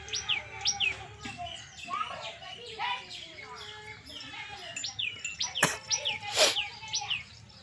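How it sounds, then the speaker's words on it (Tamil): A crow gives two harsh, loud caws near the end, close by, among a busy background of smaller birds' chirps and tweets outdoors around young goats. "காக்கா வர கொத்துது"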